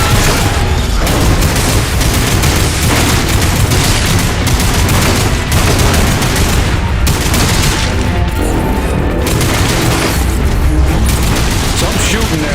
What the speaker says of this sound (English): Some shooting there.